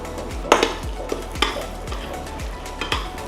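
Semolina stirred and fried in ghee in a pan, with a spoon scraping in repeated strokes over a low sizzle and occasional clinks against the cookware, close and moderately loud.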